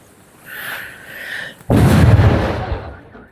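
After a faint whistling rise, a loud explosion bursts suddenly and rumbles on for over a second before fading into quiet.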